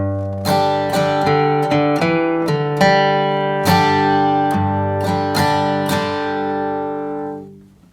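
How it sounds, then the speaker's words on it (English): A quick bluegrass G run of plucked acoustic guitar notes, about a dozen crisp attacks, ringing out and fading at the end. "we're going to play this shorter G run"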